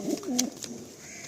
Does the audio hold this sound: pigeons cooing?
yes